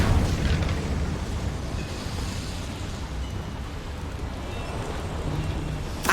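The Incendio fire spell is cast in the game Hogwarts Legacy, heard as a loud, continuous roaring whoosh of flame lasting several seconds, with no talking.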